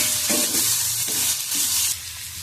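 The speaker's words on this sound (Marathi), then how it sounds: "आपण तेलात आपले वाटण आणि मुगाची डाळ चांगली परतून घेतली आहे." Ground chili-peanut paste and mung dal fry in hot oil for shepu bhaji, a bright sizzle broken by a few scraping stirs before it settles into a softer crackle.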